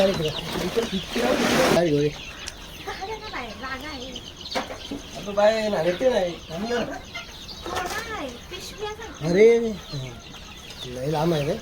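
Native gavran chickens cluck and call near brooding chicks on a farm, repeated short calls scattered throughout, with a loud hiss or rustle early on and people talking nearby.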